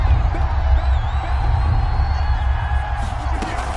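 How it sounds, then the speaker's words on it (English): Football stadium crowd roaring steadily ahead of a big third down, a dense continuous wall of cheering with a few whoops rising near the end, loud throughout. "The crowd getting into it as we come up on a big 3rd down."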